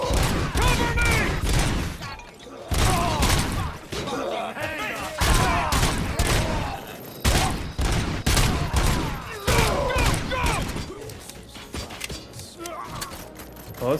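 Heavy, repeated gunfire during a bank robbery shootout in the video game RoboCop Rogue City: loud volleys and bursts of shots with brief gaps, mixed with mechanical clanks and shouted voices.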